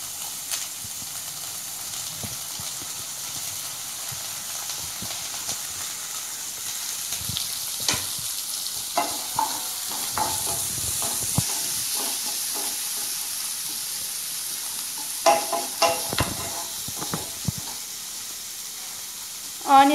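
Cumin seeds frying in hot oil give a faint, steady sizzle with scattered crackles and pops, plus occasional utensil clinks and a louder knock at the end.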